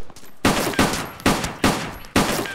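Gunfire in the DayZ video game during a shootout near a prison: five loud, close shots in a steady rhythm, each ringing out briefly before the next, with no speech.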